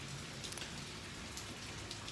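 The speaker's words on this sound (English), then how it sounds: "it's raining. Raining, raining, raining all day, every second of the day." Continuous rain patters down outdoors, a soft, even wash of drops with a few brighter splashes, faint and steady with no voices.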